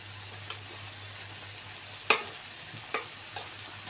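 Boiled chicken pieces added to a hot pan for spicy chicken, a soft, low sizzle beneath a steady hum, broken by a few clattering stirs and scrapes, one of them sharp and loud.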